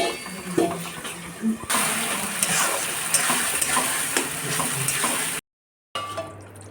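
Onions cook in a covered pan at home, giving a steady broad sizzle and hiss that runs for several seconds before cutting out abruptly, then a brief quieter stretch.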